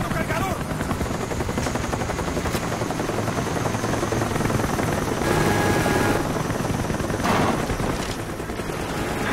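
A care package helicopter arrives in Call of Duty: Black Ops on the Firing Range map during team deathmatch, its rotor churning loudly and steadily throughout, with bursts of gunfire breaking in near the middle and end.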